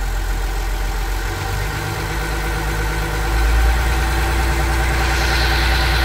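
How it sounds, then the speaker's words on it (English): A trawler boat's gasoline engine idles with a steady low rumble, then the throttle is bumped up slightly and the drone grows a little louder and higher, continuing evenly with no talking. "Let's bump up the throttle a little bit."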